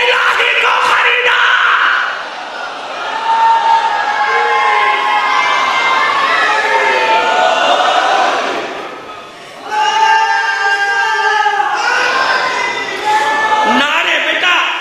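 A large crowd at a Muharram religious gathering chants slogans in loud, sustained collective shouts, swelling in repeated waves with brief dips between them, filling the space near and overpowering.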